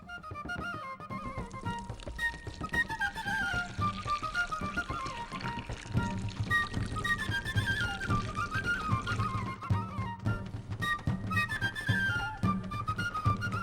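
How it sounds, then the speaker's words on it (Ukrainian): Water pours and splashes continuously over dried fruit in a container, with rising gurgling tones as it fills, close and steady throughout. "Перш за все, нам наші сухофрукти треба промити водою."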